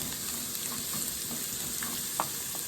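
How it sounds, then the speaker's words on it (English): Onions sizzle in a pan while cooking for mujaddara, a soft continuous frying hiss with a few faint clicks and crackles, fairly quiet and steady, without speech. "So we're going to have it sizzle a little bit, and then we're going to do the same with the other onion."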